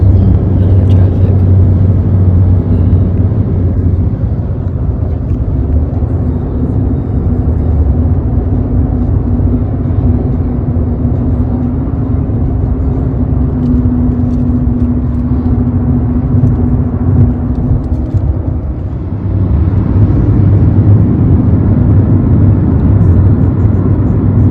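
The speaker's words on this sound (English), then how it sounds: "now we're cruising out of the traffic." A car cruises steadily out of traffic on the way to Madrid airport, its engine and road rumble a constant, loud, low drone that hums on with no break and dips slightly near the end.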